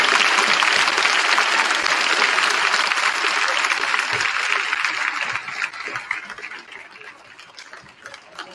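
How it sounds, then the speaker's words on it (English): A school assembly crowd applauds veterans at a Veterans Day gathering, loud sustained clapping filling the room and gradually fading toward the end. "let's give all of our veterans one last round of applause"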